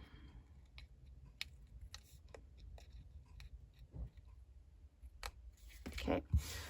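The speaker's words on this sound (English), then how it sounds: "And then I can just come around and trim these edges off." Scissors trim the edges off a layered paper card front, making a series of quiet, close, crisp snips and small clicks spread unevenly over a soft background.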